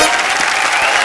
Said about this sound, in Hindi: एक बार ऋचा दी के लिए जोरदार तालियां